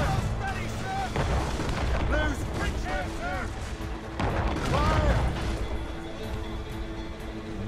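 Naval battle in Assassin's Creed Rogue, with ship cannons booming in a rolling volley over rushing sea and wind, while crew voices shout throughout and a few bright chiming tones ring out across the barrage.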